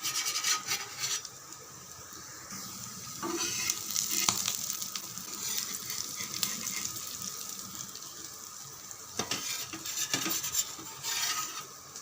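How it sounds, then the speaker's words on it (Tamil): Small nethili anchovies fry in hot oil with a steady, dense crackling sizzle that runs throughout, joined by occasional scraping and stirring strokes as the pieces are turned in the pan. "இங்கே பாருங்கள், மீனெல்லாம் நல்லா வெந்துடுது. முறுமுறுன்னு இருக்கும் பாருங்கள்."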